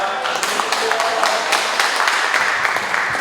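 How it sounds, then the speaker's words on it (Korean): A church audience at a CTS revival council prayer meeting applauds to welcome a pastor to the stage: dense, steady clapping that fills the room throughout, with voices mixed in. "그래서 나오실 때 크게 박수로 맞이해 주시기 바랍니다"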